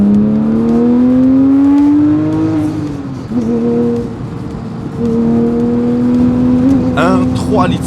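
A Porsche 997 GT3's naturally aspirated 3.6-litre flat-six, fitted with a Cup oil sump, revs loudly and rises in pitch, drops back, then climbs again with hard nearby intensity.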